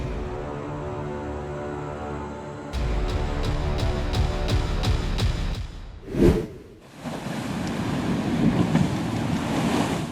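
High-tide waves at Saint-Malo crash against the shore in a loud, steady roar of surf with rushing wind, broken by one sharp surge of spray midway before the churning wash resumes.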